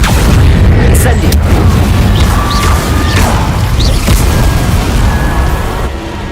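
An Incendio fire spell cast in Hogwarts Legacy, a loud continuous booming, roaring burst of flame with crackling and rumbling that stays dense throughout and tails off slightly at the end.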